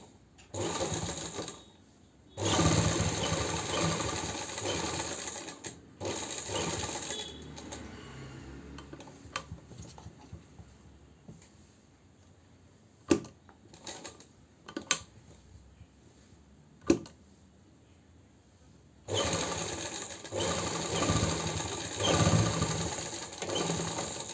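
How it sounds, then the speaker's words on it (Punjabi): Sewing machine stitching along the cut of a kurti collar neck, with loud steady whirring bursts at the start and end, a quieter stretch between broken by a few sharp mechanical clicks. "ਮੈਂ ਜਿਹੜਾ ਕੱਟ ਪਾਇਆ ਸੀ ਉਹਦੇ ਨਾਲ ਨਾਲ ਸਿਲਾਈ ਲਾਉਂਗੀ"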